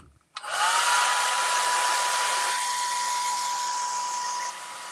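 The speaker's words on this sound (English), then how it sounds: "grab my hair dryer that I dropped off the floor" A hair dryer switches on and blows steadily with a loud, constant whooshing roar and a thin motor whine, easing slightly near the end.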